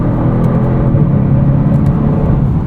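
A 2024 Genesis G70 AWD 3.3T Sport Prestige accelerates in manual mode, its engine a steady, loud whirring drone heard from inside the cabin with road rumble beneath, and no voices.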